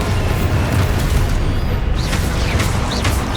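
Booming spell explosions from the Expulso curse in the Hogwarts Legacy video game, a dense continuous roar of blasts and rumble with short bright magical whooshes layered on top, loud throughout.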